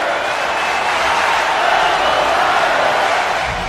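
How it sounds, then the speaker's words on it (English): A capacity arena crowd at a UFC event in Brazil roars in a steady, dense wash of noise that swells slightly midway, with no clear voices standing out. "Anderson Silva, ready to throw down and put on a big show for this capacity crowd."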